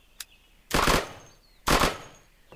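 Two separate bursts of C96 Mauser broom handle pistol fire in the video game Unturned, loud and close, about a second apart, each with a short echoing tail, and a faint click before the first.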